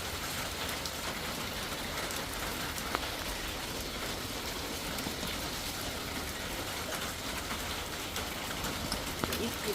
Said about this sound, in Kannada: ಮನೆಯಲ್ಲಿ ಮಾಡಿಂದ ನೀರು ಬರ್ತಾ ಇದೆ ಎಲ್ಲ ಫ್ರೆಶ್ ನೀರು ಮಳೆಗಾಲಕ್ಕೆ ಕುಳಿತಾ ಇದ್ದೀವಿ